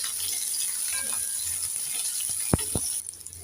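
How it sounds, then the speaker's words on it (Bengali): Peeled, crushed hog plum (amra) fries in a pan with a low, steady sizzle, broken near the end by two sharp knocks of a spoon or spatula as it is stirred. "আমড়াটাকে নেড়ে চেড়ে একটু লাল লাল করে ভেজে নিয়েছি"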